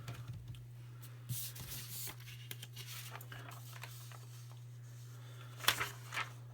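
Calculator keys are pressed in a quick run of light taps while a volume is worked out, faint and close over a steady low electrical hum, with one sharper clatter near the end.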